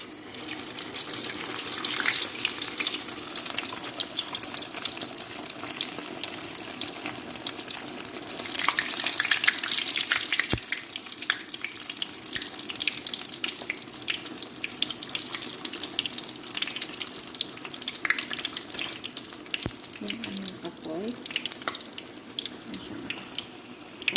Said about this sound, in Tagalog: Mantika. Yan, mainit na. So, i-fried natin siya.